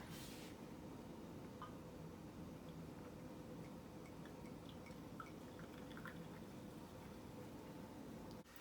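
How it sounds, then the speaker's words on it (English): Sparkling apple cider poured into a glass, a steady close fizz with scattered tiny crackles and pops that runs for about eight seconds. "And I'm gonna pour a glass of this bubbly to enjoy with my frittata."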